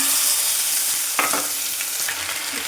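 Spice paste for a Bengali doi katla fish curry hits hot oil in a pan, giving a steady loud sizzle with a couple of sharp stirring scrapes; no voices.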